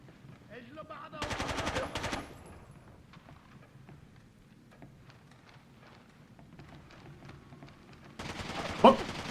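Video game gunfire comes in two loud, rapid automatic bursts, one early and one near the end, separated by quieter ambient stretches with faint scattered sounds.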